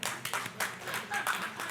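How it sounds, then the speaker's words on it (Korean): A church congregation claps during a Sunday sermon, a short burst of hand claps with uneven, overlapping beats that swell and fade over under two seconds, moderately loud in a reverberant hall. "박수 한번 주세요."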